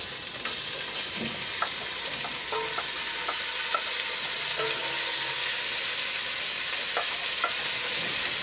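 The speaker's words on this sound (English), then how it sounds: "The fish that I had marinated before, I'm now going to saute a little bit." Marinated fish sautés in a pan with a steady, close sizzle throughout, broken by light clicks and scrapes of a utensil stirring it.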